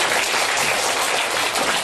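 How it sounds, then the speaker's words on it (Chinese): An indoor audience at a science event claps to welcome a teacher, a dense, even burst of applause with no voices on top. "那以热烈的掌声先欢迎邱老师"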